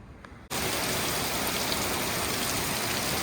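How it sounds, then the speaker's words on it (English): Heavy rain falls outside a woodworking shop, a sudden loud, dense, continuous hiss that bursts in after a brief quieter moment and holds steady. "it's raining pretty hard"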